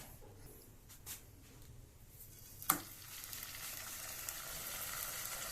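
Salmon steak frying in hot oil in a pan, a soft, steady sizzle that builds after a brief clatter midway, close by and fairly quiet, with no talking.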